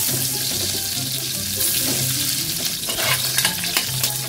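Garlic frying in a small amount of hot oil in a wok, a steady bright sizzle with occasional stirring scrapes, close and continuous with no voices.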